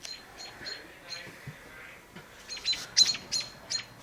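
Small birds chirp in quick, high bursts, faint and somewhat distant, growing busier and louder toward the end against quiet background hiss.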